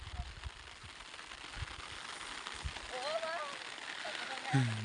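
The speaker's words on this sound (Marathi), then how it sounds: "कसं काय पाऊस चालू आहे" Light rain hisses steadily in the background over a farm field, soft and even, with a brief voice heard faintly near the end.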